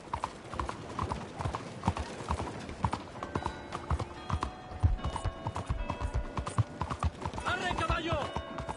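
A horse in Red Dead Redemption 2 gallops with loud, close, rapid hoof clops throughout, a brief neigh near the end, and people talking faintly over the hoofbeats.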